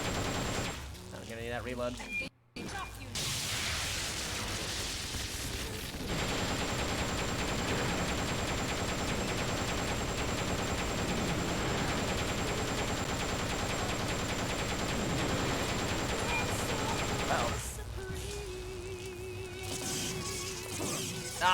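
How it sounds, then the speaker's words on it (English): Sustained machine gun fire from the Metal Gear Solid: Peace Walker video game rattles on continuously for most of the stretch, loud and dense. A player speaks briefly over the shooting. "Machine gun power, go!"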